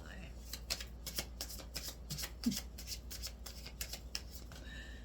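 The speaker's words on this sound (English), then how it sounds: "let's pull a chakra card for the end of July" A deck of chakra oracle cards being shuffled by hand, a run of soft riffling flicks, close but quiet, with a voice talking faintly at times.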